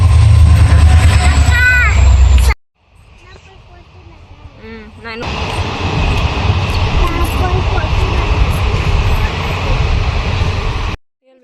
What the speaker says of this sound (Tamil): ஸோ இப்போ ஒரு ட்ரெயின் வரும்.